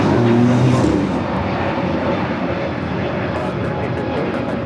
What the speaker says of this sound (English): Lufthansa Flight 457 heading back to Frankfurt, and that 747-8 Intercontinental lined up 25 left.